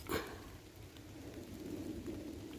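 Steady rain patters down in a soft, continuous wash, with a brief louder rumble at the very start and no voices.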